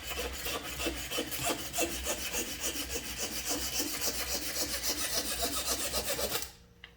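Steady rasping strokes of a file or saw cutting excess wood from a guitar build, loud and close in a rapid back-and-forth rhythm that stops abruptly near the end.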